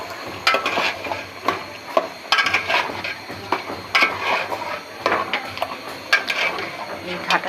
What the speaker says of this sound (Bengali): ভালোভাবে নেড়ে ভালোভাবে নাড়িয়ে মিশিয়ে নিই।